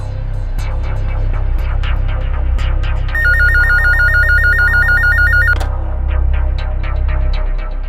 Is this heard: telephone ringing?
yes